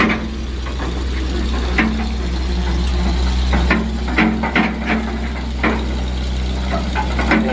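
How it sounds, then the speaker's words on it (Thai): A Liebherr excavator engine runs steadily with a low, continuous drone that sounds underpowered, broken by intermittent sharp knocks and clanks as it works to free a stuck ten-wheel truck. "ฟังจากเสียงเครื่องมันเหมือนรถมันทำงานไม่เต็มสูบยังไงไม่รู้ครับ"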